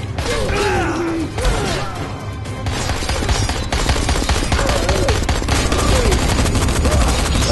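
Rapid gunfire from the video game Dying Light The Following crackles in dense, loud bursts with mechanical clatter, nearly continuous, and a voice briefly sounds beneath it at the start.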